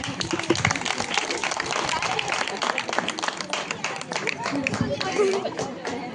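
Audience at an eighth-grade school play bursts into dense, continuous clapping that holds steady throughout, mixed with crowd chatter and murmuring voices.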